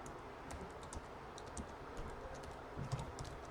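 Code being typed on a computer keyboard, a close, light patter of scattered key clicks coming in short irregular bursts over a faint room hiss.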